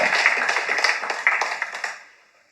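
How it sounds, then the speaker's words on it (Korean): Dense applause from the delegates at a housing association's assembly meeting, filling the room briefly and then fading away to quiet. "우리 조합장님 박수 한번 더 주시죠"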